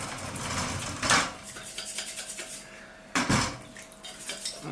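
Cleaning an Optimus 111 camping stove by hand, with metallic scraping and clinking of metal parts, two louder scrubbing bursts standing out over a steady low rasp, close and moderately quiet.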